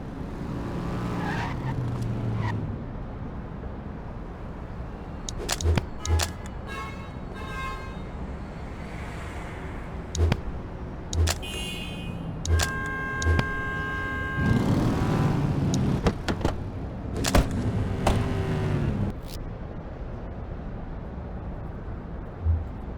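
Car driving and skidding in the police video game The Precinct, with bursts of tire squeal and short engine surges over steady road noise, coming and going across the stretch with no talk.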